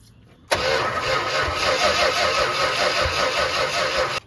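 A 1970 Plymouth Roadrunner 440 six-barrel V8, sitting for 32 years with no exhaust pipes or accessories, fires abruptly after a quiet moment and keeps running steadily in a loud, raw, close roar.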